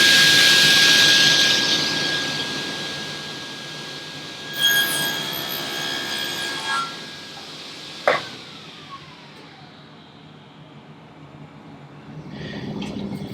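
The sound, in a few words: table saw blade cutting a groove in wood drawer stock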